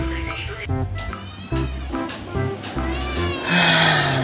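A house cat meows repeatedly and loudly at close range, the cries overlapping with people talking throughout and ending in a longer drawn-out call.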